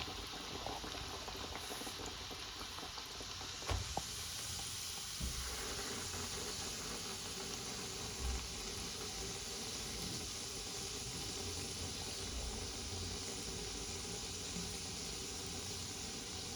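Gujia, flour pastries, deep-fry in hot oil with a soft, steady bubbling hiss, quiet and continuous, broken by a few faint knocks.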